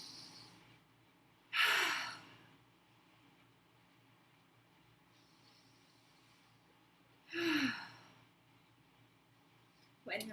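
Two deep breaths during a children's yoga cobra stretch, each a loud, airy inhale lasting about a second, spaced several seconds apart over quiet room tone.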